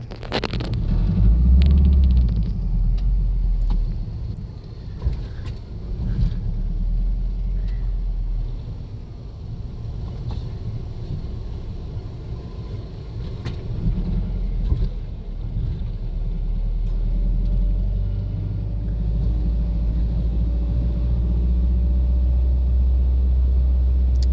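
Evening traffic on Souphanouvong Road in Vientiane, a steady low rumble of passing vehicles with engine drone swelling and fading, heard continuously and fairly loud without talk.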